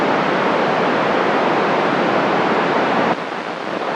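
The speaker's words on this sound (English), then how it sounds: "It's raining a lot." Heavy rain pours down as a dense, unbroken hiss that stays loud and even, then dips abruptly near the end.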